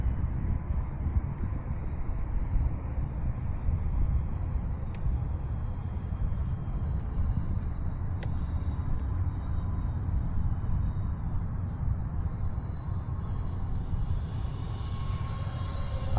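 A steady loud roar and whine from the twin 40mm ducted fans of an E-flite F-14 Tomcat RC jet at about 60% throttle continues without a break and rises slightly in pitch toward the end.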